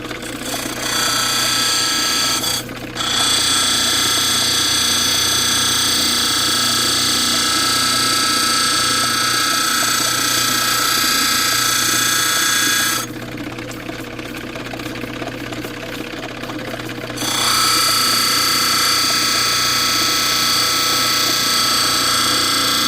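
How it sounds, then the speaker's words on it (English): An angle grinder or similar power tool bevels the edge of a wonder stone, a steady loud whine running continuously with brief shifts in pitch and intensity, close by with no talk. "We're going to start cutting that bevel down."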